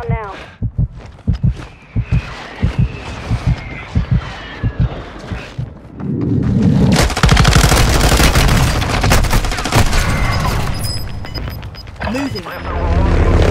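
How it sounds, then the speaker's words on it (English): Call of Duty Warzone battle royale on Al Mazrah: a radio voice speaks, then a mortar strike hits with a long, loud roar of overlapping explosions and rattling gunfire lasting several seconds. "Mortar strike inbound now."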